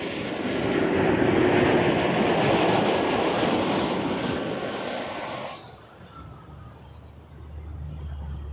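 A regional jet arriving at Toronto Pearson from Detroit roars loudly and steadily, a broad engine rumble that holds strong, then drops off and fades to a quieter distant hum with low rumble persisting.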